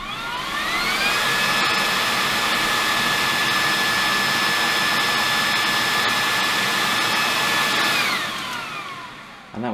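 A Bosch Unlimited cordless vacuum cleaner running at maximum power, a loud, steady high-pitched whine and airy roar that holds for about eight seconds before winding down.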